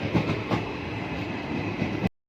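The Akola–Kacheguda train arriving at a railway station, a loud steady rumble of rolling wheels with rhythmic clickety-clack over the rail joints, ending abruptly.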